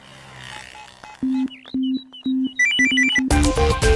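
A phone rings with an electronic ringtone in a Tamil film: evenly spaced low beeps, then a quicker rising melodic pattern, before loud music swells in.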